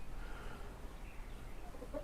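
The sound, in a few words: chickens clucking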